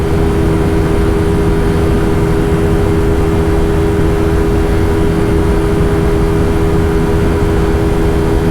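A Bajaj Pulsar N160 motorcycle cruises at high speed in fifth gear, its engine drone steady and loud, mixed with heavy wind rush buffeting close to the rider, continuous and unbroken throughout.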